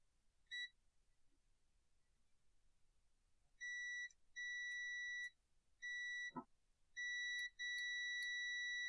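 Multimeter continuity beeper sounding while probing power converters: a faint short beep, then a run of clear steady tones of varying length with short gaps, broken once by a brief low click.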